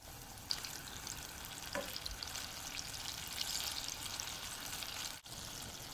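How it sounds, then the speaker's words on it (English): Small apple fritter balls fry in oil over medium-low heat, making a soft, steady crackling sizzle with faint pops, heard close and quiet with no voices. "Don't put too many. You don't want to crowd it."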